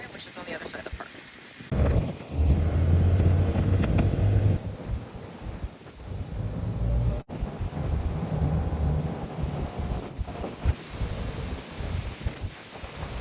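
Strong gusts on a windy day in the Florida Keys buffet the microphone with loud, continuous low rumbling that surges and dips over several seconds, sounding close and blustery.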